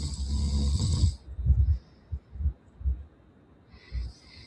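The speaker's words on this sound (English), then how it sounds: "Damn, he really snoring." A man snoring loudly, one long rasping snore followed by a series of short rhythmic snorts and breaths, close and alone.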